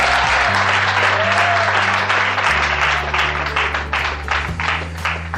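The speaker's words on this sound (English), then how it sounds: "please give a round of applause to Imole" School audience applauding an ex-student at a secondary school event: broad crowd clapping over a steady low hum, loud at first and thinning slightly toward the end.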